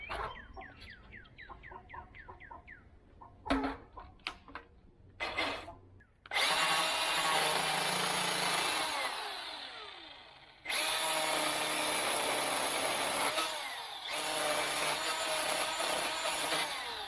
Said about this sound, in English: I used my Milwaukee Fuel M18 cordless chainsaw to soften the edges around the wood